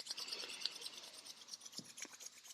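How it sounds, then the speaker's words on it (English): Bare palms rubbing briskly together during a relaxation self-massage, a soft continuous rasping friction close up with small uneven swells, no talking over it. "bring your palms together and just begin to rub them, generating a little warmth,"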